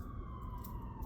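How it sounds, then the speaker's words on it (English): Ambulance siren wailing outside, a steady rising tone heard faintly at a distance over a low rumbling background. "The ambulance outside, yeah."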